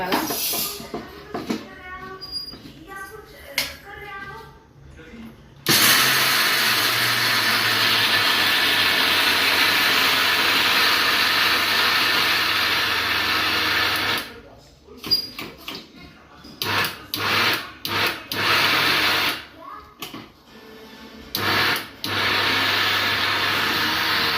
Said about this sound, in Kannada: ಮಿಕ್ಸಿ ಹಾಕೋತೀನಿ ರೀ